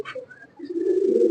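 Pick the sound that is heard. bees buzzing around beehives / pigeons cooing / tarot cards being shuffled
pigeons cooing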